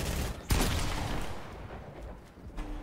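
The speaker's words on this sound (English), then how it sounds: "There's a guy shooting at me." Gunfire in Fortnite, a sharp nearby shot followed by a sustained rumble of distant firing and blasts, with a second shot near the end over the busy battle noise.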